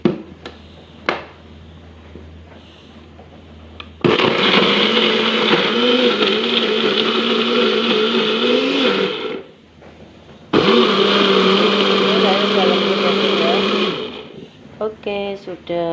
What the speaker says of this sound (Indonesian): Langsung kita blender.